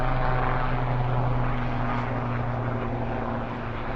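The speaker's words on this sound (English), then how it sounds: "Helicopter over Central Park." A helicopter flies over Central Park on the Upper West Side of New York City, its steady rotor and engine drone holding at a constant distance and level with no talk.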